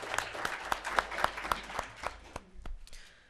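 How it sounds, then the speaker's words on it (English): A small crowd applauds at a county board of commissioners meeting, with separate claps standing out before the sound thins and dies away near the end. "Give him a round of applause."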